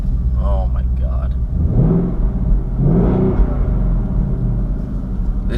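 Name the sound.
2020 Ford Mustang GT 5.0 V8 accelerating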